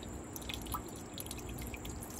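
Water drips inside a hydroponic vertical grow tower, a quick patter of small, close, bright drops falling continuously over a soft watery background.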